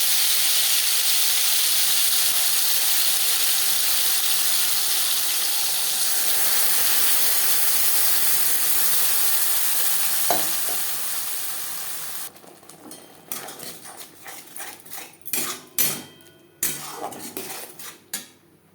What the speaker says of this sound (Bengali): তেল গরম হয়ে গেছে এবার দিয়ে দেবো পেঁয়াজ